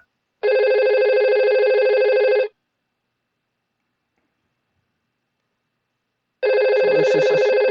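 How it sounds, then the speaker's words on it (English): Electronic ring of a VoIP IP phone in a lab setup, two loud clear ring bursts of about two seconds separated by a long silent gap, close and alone. "it is successfully ringing."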